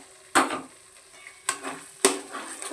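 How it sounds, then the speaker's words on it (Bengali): Prawn malai curry spice paste with mustard, yogurt and cashew paste frying in a pan, under a soft sizzle broken by three sharp, loud spatula scrapes; no one speaks. "এটাকে আমি ভালো করে কষিয়ে নেব"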